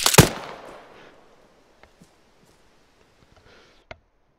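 A single sharp gunshot in the Arma military simulation game, loud and close, with a long fading echo and a few faint distant cracks afterward.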